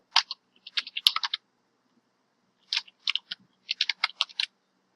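Keystrokes on a computer keyboard as admin login details are entered, with two quick bursts of close, crisp clicking separated by a pause and no voices.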